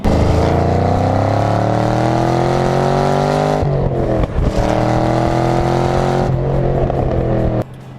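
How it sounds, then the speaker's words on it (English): A deep, rumbling V8 exhaust from a Chevrolet Camaro Z28 roars loudly and steadily, rising in pitch as the engine revs, with a brief dip midway and a drop at the end. "Listen to this thing roar."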